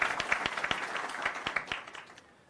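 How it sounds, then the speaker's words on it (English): Workshop attendees at a business event clap for themselves, a short burst of a few distinct hands clapping in loose rhythm, fairly soft, tapering off after two seconds. "give yourselves a round of applause"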